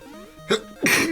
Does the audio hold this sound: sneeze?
yes